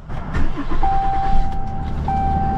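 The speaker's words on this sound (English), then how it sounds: "Turn the key off for a couple seconds and start the engine." A Dodge Ram in a repair shop is cranked and catches, settling into a steady idle close to the microphone with a continuous engine drone throughout.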